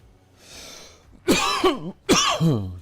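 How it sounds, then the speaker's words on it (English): Two harsh, close coughs in quick succession after a soft breathy lead-in, each a loud throaty burst with a rasping tail, from a single person. "Excuse me, got a cough."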